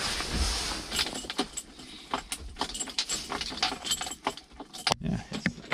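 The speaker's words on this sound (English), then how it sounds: "Let's see if the ignition key got anything more life in it." Keys jangle and click in the ignition of an old, cheap wheel loader, a series of close metallic rattles and taps with no engine starting and no talking.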